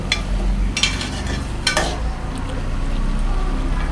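Ridge gourd and potato curry with a little added water being stirred in a pan, a low simmering sizzle with a couple of brief scraping strokes of the spoon, close and fairly steady.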